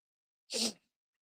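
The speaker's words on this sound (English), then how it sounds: "I have to sneeze" A single close, loud sneeze, sharp and breathy, bursting out alone in an otherwise silent moment.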